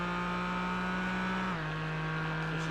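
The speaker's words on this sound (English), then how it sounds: "It is in the Porsche DNA, that boxer engine," A Porsche boxer engine in a sim racing game holds a loud, steady, buzzing note at high revs, then dips slightly in pitch partway through and carries on, close and continuous.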